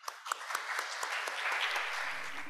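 Audience at a conference plenary session breaking into applause, a dense patter of clapping that starts with a few sharp claps and quickly fills in, moderately distant and steady.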